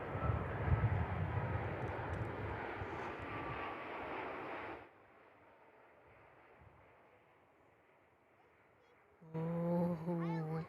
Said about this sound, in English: Biggest aircraft we get here from Qantas.